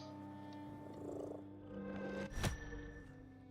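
A cat being petted in The Midnight Walk gives a low, steady rumbling purr, close and continuous, with a brief soft bump partway through and no talking.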